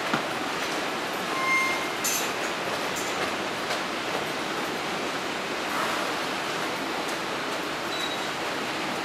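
An out-of-service JR Yamanote Line E231 series train pulls into Ikebukuro Station, running alongside a 253 series train, with a steady rolling rumble and brief faint wheel squeals, and no voices.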